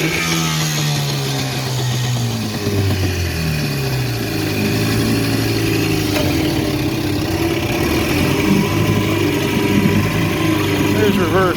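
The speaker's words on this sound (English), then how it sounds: "Looks like I got to dial the idle in a little bit better" A 1962 Wizard Scott-Atwater 14 hp outboard motor idles on a lake with a steady, low, uneven throb that continues throughout at close range.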